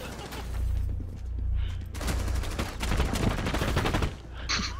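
Gunfire coming through a wall in Rainbow Six Siege, bursts of rapid automatic shots in several volleys with a pause between them, fairly loud.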